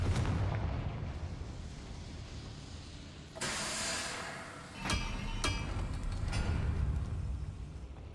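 A Confringo blasting spell goes off in Hogwarts Legacy, a sudden burst followed by sharp cracking impacts and a lingering hiss over low background rumble, fairly faint overall.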